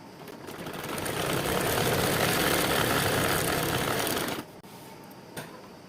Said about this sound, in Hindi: ये लास्ट वाली पॉकेट हम किनारे की तरफ से रखते हुए यहाँ सिलाई लगा लेंगे किनारे पे